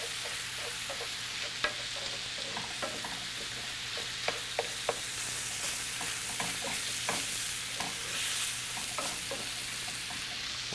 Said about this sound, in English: I'm just going to check on how my beef is browning.